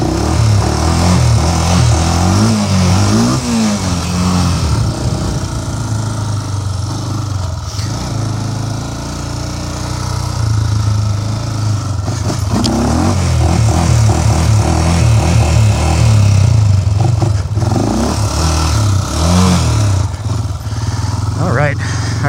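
A fully stock Honda 400EX quad, bought for $900 after sitting unused for years, runs continuously close by, idling with occasional revs while someone talks over it.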